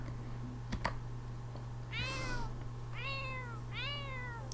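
A cat in The Sims 4 gives three clear, rising-then-falling meows about a second apart, close and alone over a steady low hum, after a couple of sharp clicks.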